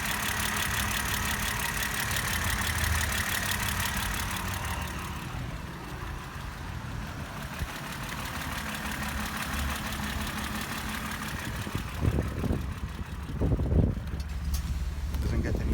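A 1970 BMW 2800 CS idles with a steady, smooth engine drone throughout, joined by a few brief louder bumps near the end.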